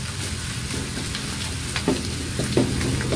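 Onions frying in a pan for Mie Sedaap noodles give a steady, close sizzle throughout, broken by a couple of sharper stirring scrapes near the end.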